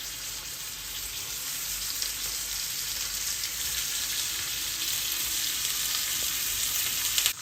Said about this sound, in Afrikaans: Ons gaan nou ons nek choppies tot perfeksie goudbruin braai.